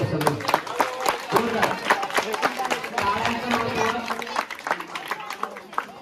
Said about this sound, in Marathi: या लेकरांना प्रोत्साहन करण्यासाठी एकदा जोरदार टाळ्या वाजवा.